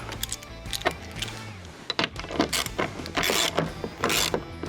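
A wrench turns the nut on an off-the-turnbuckle hood latch mount of a Jeep, giving a run of close, clicking metallic mechanism sounds and small clanks with short pauses between bursts.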